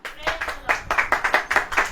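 An audience clapping at a church gathering, steady rhythmic claps repeating for a couple of seconds, close and moderately loud.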